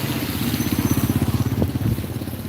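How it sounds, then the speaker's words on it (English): Motorbike engines rumbling past in Thai street traffic, a loud close pulsing throb that peaks mid-clip and then eases. "So they're going past on the motorbikes."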